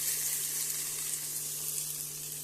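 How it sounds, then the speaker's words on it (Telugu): A tomato hits a hot frying pan and sizzles, a bright, steady hiss of frying oil that stays close and continuous, with a low steady hum beneath. "ఆ టమోటా పండు ఒకటి వేస్తున్నా."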